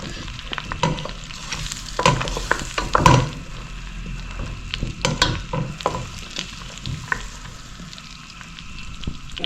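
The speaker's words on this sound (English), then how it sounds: "black elaichi, tablespoon of somph, mustard seeds, and cumin seeds. Fry here in the butter and the ghee." Black cardamom, fennel, mustard and cumin seeds fry in butter and ghee, a close crackling sizzle with stirring scrapes and sharp pops and clinks scattered throughout, without speech.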